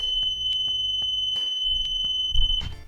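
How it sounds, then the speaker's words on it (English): A bus rear emergency exit alarm sounds a high, continuous electronic tone steadily throughout, with clunks and knocks of the exit door being opened and closed underneath. "they will open the rear emergency exit and the alarm should sound"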